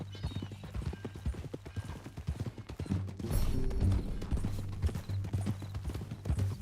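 Rhythmic clip-clop of horse hooves at a walking pace in Red Dead Redemption 2, fairly close, with a low steady rumble underneath and a brief snort or whinny.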